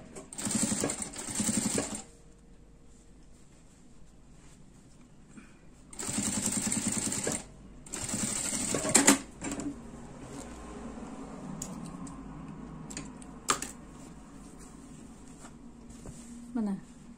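A sewing machine stitches a handbag in short bursts, with runs near 0–2 s, 6–7.5 s and 8–9 s, and quieter handling sounds in between. Someone talks during the pauses.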